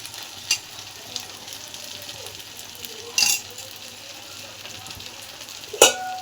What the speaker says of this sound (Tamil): மறுபடியும் கொஞ்சோண்டு எண்ணெய் ஊற்றிடுவோம்.